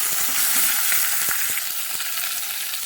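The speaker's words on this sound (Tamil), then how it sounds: "இந்த வெங்காயத்தை போட்டுக்கலாம்" Small onions hit a pan where dried red chillies are already frying, giving a close, even hiss of sizzling oil with a few faint clicks and stirring knocks scattered through it.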